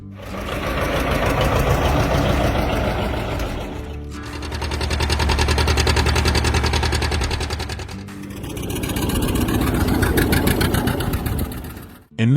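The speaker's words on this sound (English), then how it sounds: "John Deere introduced the 830, the largest two-cylinder diesel tractor in the two-cylinder 30 series" A John Deere 830 two-cylinder diesel tractor from 1958 runs steadily with a fast, even chugging pulse. It is loud and close, the tone shifting as the engine load rises and falls, and nobody talks over it.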